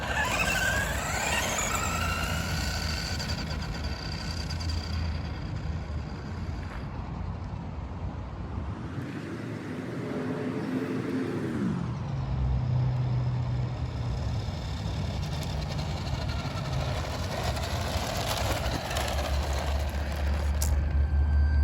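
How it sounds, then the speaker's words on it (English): A restored 1986 Tamiya Falcon RC car runs a speed test on its stock 540 electric motor. The motor whine drones continuously, rising and falling in pitch as the car speeds up, passes and recedes. "now we're gonna do a speed test with the 540 stock motor in there"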